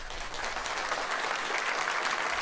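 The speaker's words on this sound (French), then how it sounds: "vous pouvez les applaudir, s'il vous plaît" A comedy club audience breaks into applause, dense even clapping sustained at a moderate, slightly distant level for the whole stretch with no voices over it.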